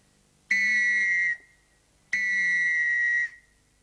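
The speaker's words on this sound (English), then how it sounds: "I think I'll blow it again." Two loud, shrill whistle blasts, each held for about a second with a short pause between, sounding close against a quiet background.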